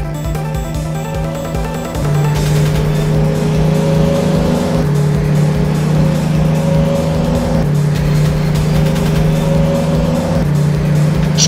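A car speeds away in a chase, driving on the wrong side of the road, its loud engine droning steadily and shifting pitch upward around two seconds in, with a tonal engine whine that rises and falls repeatedly.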